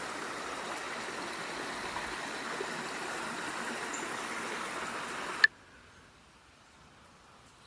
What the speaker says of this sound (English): Nice little beautiful stream area.